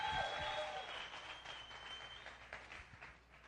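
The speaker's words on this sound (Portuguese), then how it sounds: "Aplaude Jesus aí, só para a gente quebrar o gelo." Church congregation applauding in a sanctuary, a moderate wash of clapping that fades gradually over a few seconds, with faint voices and a sustained tone beneath.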